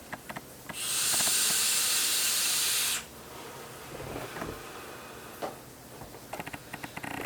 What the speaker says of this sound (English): just a couple clouds here, a little bit of vapor before I go